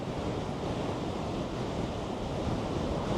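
Steady, rushing cold wind buffets the microphone in a constant low roar during an e-bike ride in Albuquerque, with no voices and no pauses.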